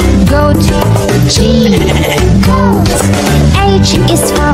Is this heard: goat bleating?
yes